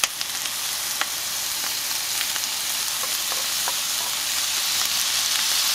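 Brisket and tomatoes sizzle steadily while frying in a pan, a dense continuous crackle with occasional sharper pops from stirring, close and fairly loud throughout.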